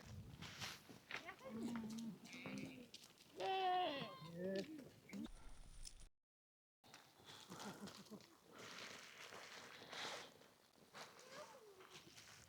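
Sheep bleat several times at close range on a high Himalayan trail in Ladakh, where one carries a bag on its back, mixed with footsteps and people talking throughout, with a brief silent gap midway.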